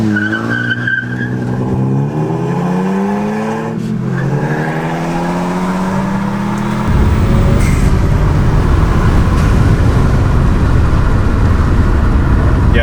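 A 2018 Audi S3 or 2018 Ford Focus ST Mountune Edition accelerates hard from inside the cabin, the engine tone climbing through a gear before a loud broadband road and wind roar takes over, steady and close.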